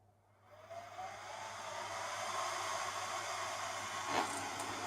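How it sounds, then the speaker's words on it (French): A small PC cooling fan powered at 25 volts from a bench power supply whirs steadily as a broad airy hiss, starting quietly and building to a constant level, close by with no talking. "j'alimente 25 volts un petit ventilo de PC"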